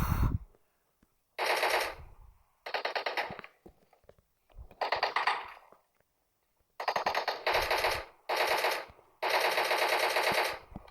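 Automatic gunfire in the video game PUBG: loud rapid bursts of shots, some short and some sustained, separated by brief silent gaps, with no talking.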